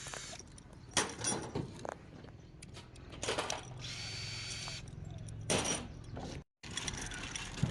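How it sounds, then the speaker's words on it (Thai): New bolts tightened into roof holes for mounting solar panels on a 5 kW on-grid home system, with a close, whirring, ratcheting power-tool drive in several bursts and steady mechanical noise between them. "กำลังทำการ ใส่น็อตตัวใหม่ครับ"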